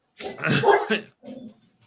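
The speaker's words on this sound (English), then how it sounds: "Yep, my dog. Doggo agrees." A dog gives a short bark followed by a softer second yip, close and loud in an indoor room.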